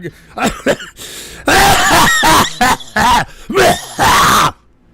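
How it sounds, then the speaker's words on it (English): A man gives harsh, loud, close coughs after taking a hit: several short hacks, then a series of long, rasping groaning coughs, before it goes quiet. "Sorry, I had a cough from that hit there."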